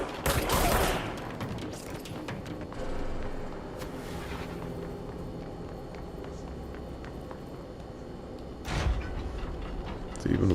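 Gunfire in a shootout in the game Control: sharp bursts of shots open the stretch and return near its end, with quieter clattering and footstep-like taps in between.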